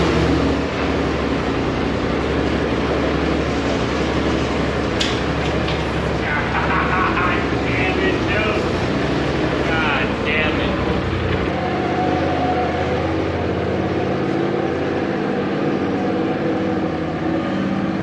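Polaris RZR Pro XP side-by-side fitted with new O.R.B. suspension and Keller ball joints being driven, a loud, continuous engine and drivetrain roar with road rumble, steady throughout and easing slightly near the end.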